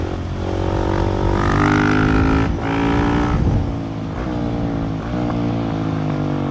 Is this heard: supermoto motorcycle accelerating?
yes